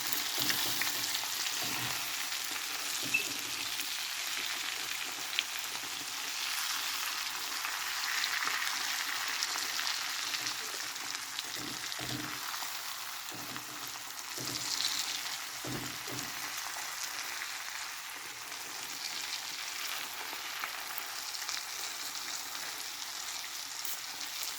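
Chicken frying in a karahi pan, a steady crackling sizzle of hot oil heard close up with a few low thumps as pieces are turned, no voices.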